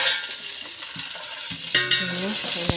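Vegetables and green chilies frying in ghee in a pan, a steady sizzle with scraping stirs and a few sharp metallic clinks from a utensil, close and unbroken, no voices.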